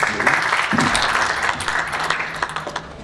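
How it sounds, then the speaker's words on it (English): An audience claps after a professor's talk at an academic conference session, a fairly loud, even wash of applause that holds steady before thinning into scattered individual claps. "Round of applause."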